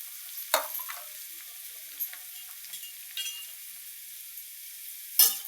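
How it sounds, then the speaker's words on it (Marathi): Onions and tomatoes for pav bhaji fry quietly in a pan with a soft continuous sizzle, punctuated by a few brief spatula scrapes and stirring clicks. "टोमॅटो चांगलं लाल होईपर्यंत भाजायचं. कांदा लाल भाजलेला आहे."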